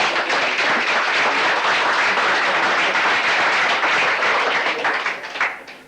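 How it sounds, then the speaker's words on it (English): Dense, sustained applause from a club audience filling the room, steady and loud throughout before tapering off near the end, with no talking over it. "That deserves a round of applause."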